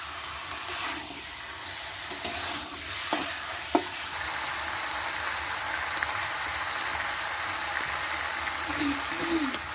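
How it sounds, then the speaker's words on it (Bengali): Chicken sizzles with spices in a pan over high heat for a homestyle chicken curry, a continuous hissing fry with scattered clicks and scrapes as it is stirred. "এখন আমি চিকেনটা দিয়ে মশলার সাথে ভালো করে মিশিয়ে নিচ্ছি নেড়ে চেড়ে।"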